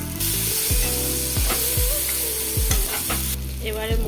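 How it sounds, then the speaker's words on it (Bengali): Spice paste with turmeric, hot chilli powder and Kashmiri chilli powder fries in a pan and is stirred continuously: a steady loud sizzle with a regular rhythm of spoon scrapes against the pan, and no talking. "এবারে মশলাটা আমি ভালো করে 2-3 মিনিট কষিয়ে নেব।"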